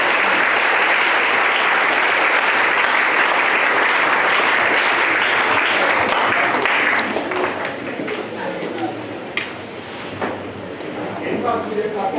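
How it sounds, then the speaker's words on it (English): A book launch crowd breaks into sustained applause, dense and steady for about seven seconds before thinning into scattered, sharper individual claps near the end. "a round of applause"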